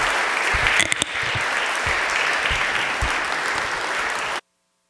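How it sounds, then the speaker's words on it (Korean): A church congregation applauds to welcome a visiting pastor at a revival service, steady crowd clapping filling the room for about four seconds before cutting off abruptly. "한번 박수로 환영하면서 우리 함께 목사님 맞이하도록 하겠습니다"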